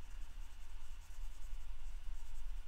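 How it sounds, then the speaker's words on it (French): A blending stump rubs over coloured pencil on paper, a soft continuous scratchy scrubbing that stays close and fairly quiet with a steady back-and-forth texture. "je reprends mon crayon estompe et là, je vais venir mélanger tout ça."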